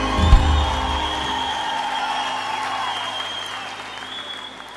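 Large crowd applauding at a live concert in Altice Arena, sustained clapping with light cheers and whoops, loud at first and slowly tapering off.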